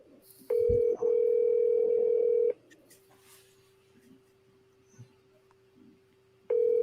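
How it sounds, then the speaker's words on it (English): Electronic phone ring tone from an incoming call: a steady loud tone for about two seconds, a pause, then the tone starts again near the end, with faint room noise and no speech. "oh, we have a phone call coming in."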